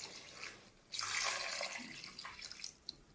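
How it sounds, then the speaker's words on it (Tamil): Three cups of water are poured into a pot of chicken biryani with basmati rice, a short splashing, gurgling pour that starts abruptly, runs steadily for about two seconds and then tapers off, close and fairly quiet. "இப்போ 3 கப் தண்ணி ஊற்றிக்க போறேன் நான்."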